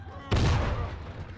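A sudden loud boom from an explosion with gunfire in The Last of Us video game, a sharp blast that rolls off into a rumbling decay over about a second.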